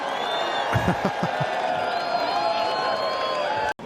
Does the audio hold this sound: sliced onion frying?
no